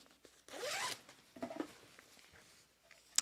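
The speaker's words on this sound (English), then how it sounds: "Got a chest zipper over here." A zipper on the chest pocket of a padded running jacket is pulled in one quick, close rasp, followed by a few softer fabric rustles and shorter zip ticks.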